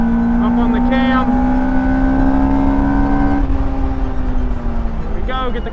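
A Lotus Elise engine revs hard on a track lap, a loud, droning in-car note climbing steadily in pitch, briefly dipping and rising again, with a short burst of tire or intake noise near the start and end.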